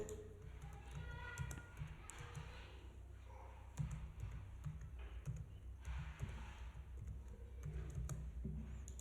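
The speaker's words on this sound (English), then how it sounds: "we are supposed to type this text here" Computer keyboard typing while entering footnote text in a Word document, light irregular clicks running steadily under a low background hum.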